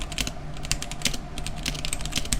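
A stock GamaKay Womier K87 mechanical keyboard clatters under steady, fast typing, dense overlapping keystrokes heard close and fairly loud with no talking.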